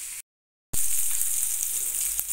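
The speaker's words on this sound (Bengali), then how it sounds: "পটলগুলো ভাজা হয়ে গেছে" Pieces of pointed gourd fry in hot oil, giving a close, bright, continuous sizzle that follows a brief moment of silence.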